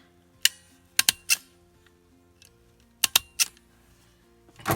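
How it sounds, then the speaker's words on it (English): A stapler punches through paper scraps in a journal, giving several sharp, close clicks in two short bursts separated by a quiet pause. "I'm going to staple it first,"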